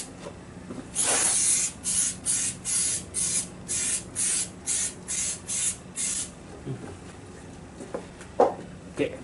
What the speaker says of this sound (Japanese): シリコンで脱水しときますわ。